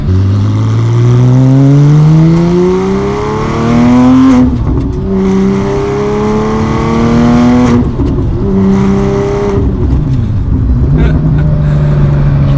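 A loud 992 Porsche 911 GT2 with a manual gearbox roars nearby under mild acceleration, its pitch rising steadily through the gears with brief dips at each shift, then climbing again.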